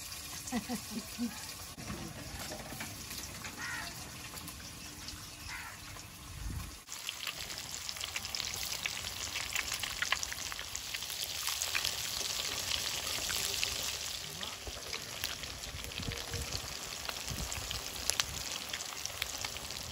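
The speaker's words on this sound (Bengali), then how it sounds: "এগুলো লাল লাল করে ভেজে নিয়েছি, প্লেটে তুলে নিচ্ছি। বাকি সবগুলো এইভাবে ভেজে নেব।" Fish pieces for muitha, pangas and tengra, fry in hot oil in a pan with a steady sizzle and crackle, growing louder and denser in the second half and running continuously, close by.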